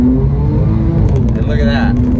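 A Porsche 911 997.2 accelerates hard with a loud, close engine drone. Its revs climb in rising tones toward the end of the short burst.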